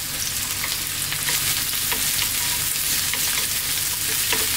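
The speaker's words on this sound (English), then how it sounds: "Stir frying, I'll be back in about 3 minutes." Cauliflower with onion, garlic and ginger sizzles loudly and steadily in a pan on maximum heat, a continuous crackling hiss with occasional scrapes as it is stirred.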